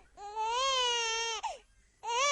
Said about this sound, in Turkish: Ağlama tatlım.